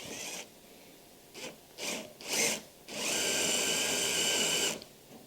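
A drill bit bores into wood while cutting leg vice joinery, first in three or four short bursts, then in one steady whining run of about two seconds. The drilling is close and loud, with no voices.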